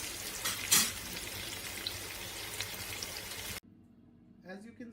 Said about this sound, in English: We're going to reduce the flame to medium and let it caramelize.